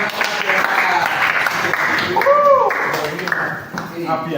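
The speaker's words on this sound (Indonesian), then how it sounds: "Oke, tepuk tangan dulu." Workshop attendees in a church hall clap together in a dense, close round of applause, with voices and a brief whistle-like tone mixed in midway.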